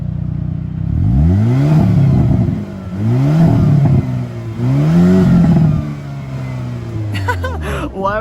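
A Hyundai Kona N on its stock exhaust revved three times in a row, each a loud rising engine roar falling back to a burbling idle, heard close, with a brief clatter at the end.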